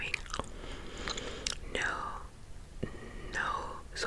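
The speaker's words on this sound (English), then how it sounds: "put me to sleep with your gum chewing" Gum chewing close to the microphone in a whispered ASMR setting, with soft wet smacks and clicks under continuous quiet whispering.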